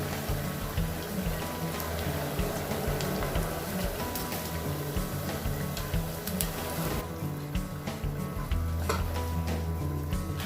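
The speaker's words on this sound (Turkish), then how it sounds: "Bu şekilde kızaranları tabağımıza alalım." Potato fries crackling and sizzling in hot oil in a home kitchen, a steady busy fizz with light clinks and stirring noises, close and continuous without speech.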